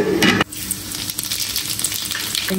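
Nigella seeds (kalonji) tempering in hot oil, a loud burst of sizzling at first that settles into a steady, quieter crackle and hiss throughout.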